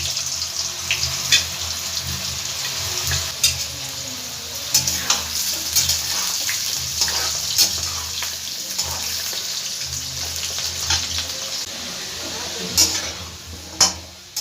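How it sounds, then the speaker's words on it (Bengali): Cut potatoes fry in hot oil with a constant, close crackling sizzle, broken by occasional clinks and scrapes as they are stirred in the pan. "কেটে রাখা আলুগুলো সব আমি তেলের মধ্যে দিয়ে দেবো তেলের মধ্যে দিয়ে একটু ভালো করে আমি ভেজে নেবো বাদামি কালার করে"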